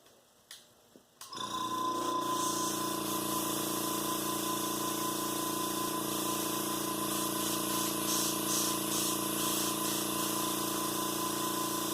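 An airbrush lays a second paint coat on the fuselage of an F/A-18E scale model, a steady, close hiss that starts abruptly after a few faint handling knocks and holds evenly to the end.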